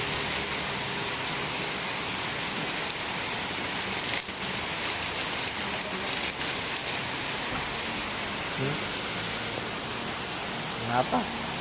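Heavy rain pours steadily in Kampung Satu, Tarakan, during strong wind, a dense continuous hiss of drops on surfaces with a few faint knocks and no break.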